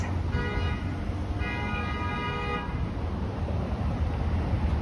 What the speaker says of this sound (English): Of course, lots of honking too.